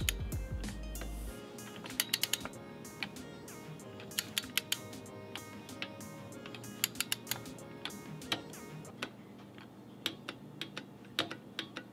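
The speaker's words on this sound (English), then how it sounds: "So we're just gonna get it snug and then wait for that 13 foot-pound click." Torque wrench tightening the spark plug on a Yamaha XT250 until it clicks, a run of sharp, close ticks and clicks repeated through the clip over a low steady background hum.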